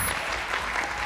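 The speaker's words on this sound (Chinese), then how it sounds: "掌声鼓励。" A studio audience on a quiz show breaks into loud, steady applause, a dense wash of clapping that fills the whole short moment without any voice over it.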